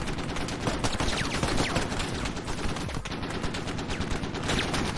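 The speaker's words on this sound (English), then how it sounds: "We have a machine gun bunker." Sustained gunfire in the tactical military game Squad, with a machine gun firing from a bunker amid other shots, a dense continuous barrage with sharp cracks standing out, loud and steady throughout with no talk.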